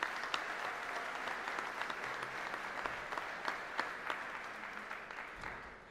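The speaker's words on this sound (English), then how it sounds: "So let's give them all a round of applause." At an anniversary gala, the crowd applauds former trustees with a sustained round of clapping. It sounds distant and fairly faint, with crisp individual claps standing out, and fades slightly at the end.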